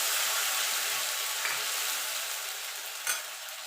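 Whole cumin, ground tomato paste, ginger and green chilli sizzle steadily in a hot oil pan for a vegetarian jackfruit kofta curry, with a constant close frying hiss and faint stirring clicks, and no talking.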